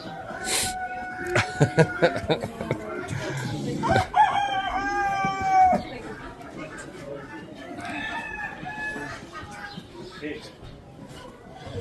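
A rooster crows a couple of times amid clucking chickens, ducks, geese and other farmyard birds at a chicken sale, with people talking nearby and scattered knocks.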